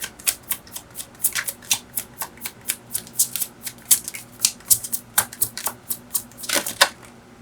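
Tarot cards being shuffled and drawn by hand, producing quick papery riffles and crisp snaps in an irregular series of short bursts, close up and clear in a quiet room.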